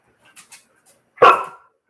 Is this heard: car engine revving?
no